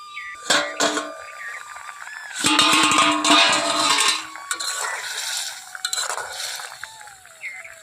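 A metal lid comes off a pot of boiling koromcha, producing scattered clinks, a sustained clattering rattle in the middle and lighter knocks as it settles, heard up close in a quiet kitchen.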